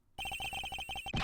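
A cell phone rings in the Miles Edgeworth Ace Attorney Investigations video game, sounding as a rapid electronic trill of evenly spaced beeping pulses, loud and close, with no talking.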